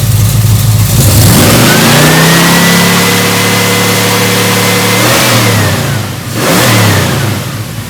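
A 1973 Dodge Dart Swinger's engine revs loud and close while its ignition timing is set, holding high RPM for several seconds, dipping briefly, then climbing again.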